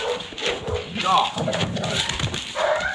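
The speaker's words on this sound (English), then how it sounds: "Be careful around these dogs. They make scary noises and oh man, they bite." Dogs bark and yip in short bursts close by, mixed with an adult's anxious talk and a voice throughout.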